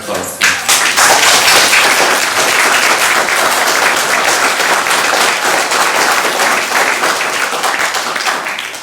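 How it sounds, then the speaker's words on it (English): Sustained, loud audience applause at a Dominican retreat centre for a speaker after his talk on Divine Will, dense clapping filling the whole stretch and thinning slightly toward the end. "Give him a round of applause."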